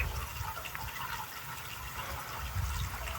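Water pours from a hose into a tank on a cattle farm, a steady gurgling rush with no voices.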